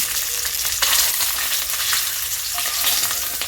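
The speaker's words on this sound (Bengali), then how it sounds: "এবারে কড়াতে তেল দিয়ে আমি ডিম দুটোকে হলুদ লবণ মিশিয়ে ভাজা করে নিলাম" Two boiled duck eggs frying in hot oil in a kadai with turmeric and salt: a loud, dense, crackling sizzle right up close, with a few sharper pops and scrapes.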